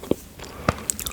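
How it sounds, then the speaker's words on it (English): Bites into milk chocolate with crispy, crunchy bits, two or three close, sharp crunching snaps with quiet mouth sounds between them, recorded up close in a quiet setting. "it's like the milky chocolate with like crispy,"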